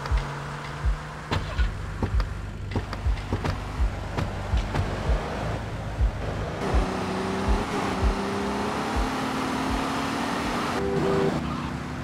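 Car driving in the Grand Theft Auto: Vice City video game: a steady engine drone with tire noise and occasional sharp skids and knocks, mid-loud and continuous, with no voices.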